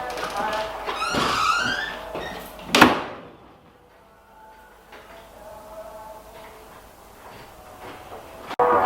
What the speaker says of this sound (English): Shut the doors.